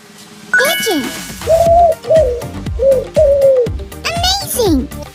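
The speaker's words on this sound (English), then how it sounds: "Pigeon." A pigeon coos in a children's animal-sound matching game, giving a series of five or six close, rounded, falling coos in an uneven rhythm.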